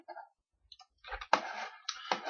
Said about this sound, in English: And just type in Demo 2.